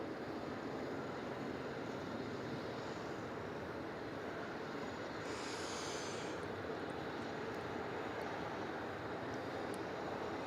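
An Emirates Airbus A380 taxiing at Melbourne Airport, its four jet engines spooling up into a steady, broad roar that holds at a distance for the whole stretch, with no voices over it.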